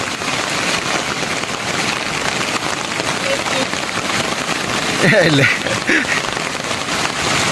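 Steady heavy rain patters on a surface throughout at a campsite in Tanjung Malim, Malaysia, with a voice briefly speaking Malay partway through.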